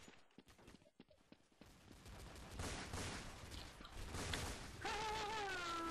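Gunfire in the video game Counter-Strike: dense, rapid bursts of shots and clattering impacts build into a loud, continuous barrage, ending with a whistling tonal game sound over the shooting.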